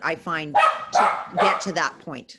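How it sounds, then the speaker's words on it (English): Dogs bark in short bursts in the background under continuous close speech from a man during a school roundtable discussion. "Sorry about the dogs."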